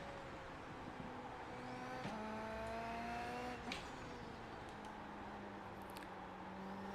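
A single-seater race car engine drones steadily around Silverstone in a racing video game, holding a continuous mid-level hum with a few rising gear-change sweeps and brief revs.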